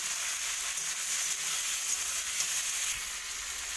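Tomatoes for a tomato chutney fry in a pan with a steady, even hiss of sizzling oil that runs unbroken and fairly close throughout.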